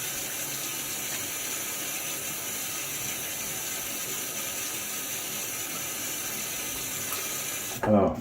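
Tap water runs steadily into a sink as shaving lather is rinsed off after a shave with an RPS Aviator razor, a constant broadband splashing rush that cuts off abruptly near the end.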